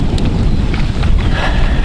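Strong headwind buffeting the microphone at a fishing lake during a feeder fishing competition, a loud low roaring rumble that stays constant across the short stretch, with no voices.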